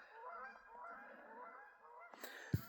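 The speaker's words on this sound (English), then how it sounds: "Oh, there go the geese." Several Canada or other geese honk in a continuous, overlapping chorus at moderate distance over an Upper Midwest forest, ending with a couple of sharp clicks close by.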